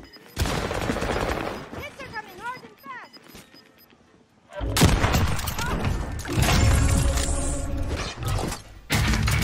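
Bursts of automatic gunfire in Call of Duty Warzone, sharp rapid shots in clusters, with a loud sustained volley in the second half, while a player shouts and talks over the action.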